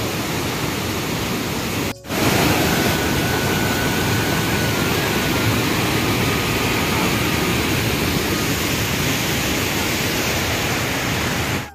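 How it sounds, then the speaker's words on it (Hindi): Rabanadhara waterfall near Bhawanipatna roars as a loud, steady broadband rush that fills the whole scene, broken only by a brief dropout about two seconds in, with no voices present. "देखो तो बेटा झरना"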